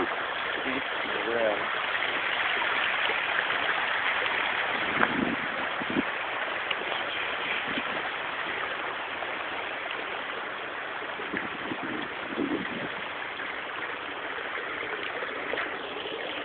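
Steady rushing water flows continuously, like a stream running nearby at Kolli Hills, with a few faint knocks and indistinct voices underneath.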